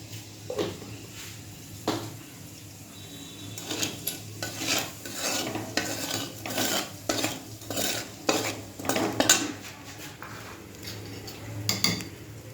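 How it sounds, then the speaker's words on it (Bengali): Nigella seeds tempering in leftover fish-frying oil are stirred in a pan, with a steady hiss under repeated metallic scrapes and clinks of a spoon against the pan, irregular and close, with no one speaking. "এবার একটু কালো জিরে ফোড়ন দেবো"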